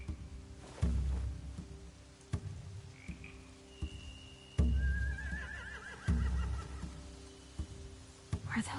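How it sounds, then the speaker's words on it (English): Horses whinny a couple of times in the video game The Walking Dead: The Final Season, the wavering neighs rising over heavy thumps and hoof clatter, with a quiet croaking in the background. "They have horses."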